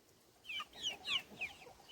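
Chickens cluck softly while pecking at food, a few faint, distant clucks coming in a loose sequence with no voices present.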